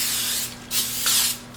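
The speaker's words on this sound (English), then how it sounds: "I'm just going to spray my baking sheet with this baker's spray" Baker's spray hisses onto a baking sheet in a few short, close bursts, each a bright airy spray with brief gaps between.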